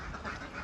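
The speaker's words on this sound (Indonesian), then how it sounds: "bebek kecil umur 1 hari atau baru menetas lah ya" Day-old ducklings, just hatched, give soft quacking peeps that are faint and a little distant, repeating in a quick cluster of short calls within a brief moment.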